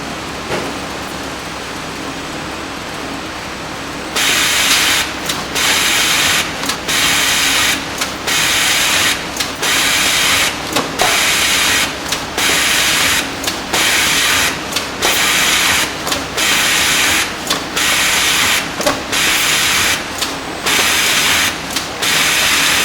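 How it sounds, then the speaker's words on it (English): Pratt sheet feeder machine running and feeding sheets: a steady loud mechanical whir that starts after a few seconds, then regular rhythmic gaps and clacks as each sheet feeds, repeating about every second and a half. "I'm going to go ahead and press run, and you'll see the table rise till it gets into feeding position."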